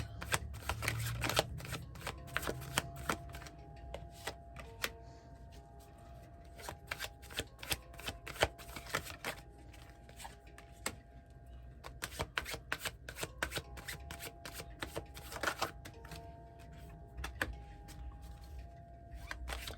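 Cards being shuffled over and over, crisp riffling bursts and snaps repeating throughout, fairly close with a quiet background.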